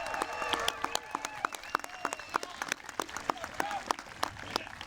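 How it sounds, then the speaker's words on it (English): Applause rises from a crowd at an outdoor evening high school commencement, steady and moderately distant, with sharp individual claps standing out and cheering whistles and scattered voices woven through it. "how about a round of applause for Mr. Whitehorse for having the courage to keep us outdoors tonight?"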